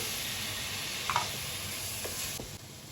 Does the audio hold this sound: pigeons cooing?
no